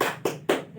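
A class of children claps out a short patterned routine in a classroom, with two sharp group claps close together and a brief tail between them, clear and nearby, no talking.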